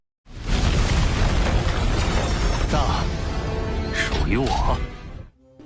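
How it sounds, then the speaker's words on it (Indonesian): A mountain peak explodes in a huge roaring blast that rumbles on continuously, with crashing debris and cinematic effects layered over a deep, sustained boom before it cuts off. "Puncak gunung kemudian meledak berkeping-keping"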